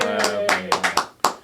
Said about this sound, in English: Hand clap for Nathan